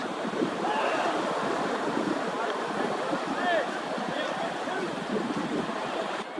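Ocean surf washing steadily near the shore, a continuous broadband rush of waves mixed with gusty wind buffeting the microphone, with a faint voice in the background.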